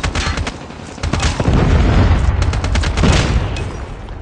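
Predator missile strike in Call of Duty Mobile: a dense, loud, sustained roar of booming explosions and rumbling blasts, with crackling gunfire-like bursts layered throughout.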